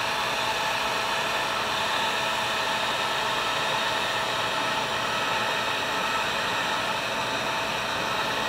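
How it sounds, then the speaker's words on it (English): A heat gun blows steadily to shrink heat-shrink tubing over a 6s long-range battery pack build, a constant even hiss and whoosh of airflow with no breaks, at moderate level throughout. "I'm just gonna put this heat shrink right over all of this and then just shrink it up."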